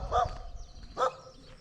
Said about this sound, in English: There's the local puppy dog.